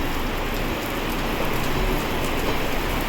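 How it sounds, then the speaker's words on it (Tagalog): Monsoon rain falls heavily and steadily, a dense close hiss of drops drumming on surfaces with no break, heard alone without voices. "Sadyang maulan."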